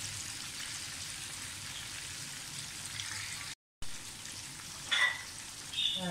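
Minced meat kebabs sizzle steadily in a pan as they brown, a soft continuous crackle with brief louder spatters near the end and a short dropout partway through.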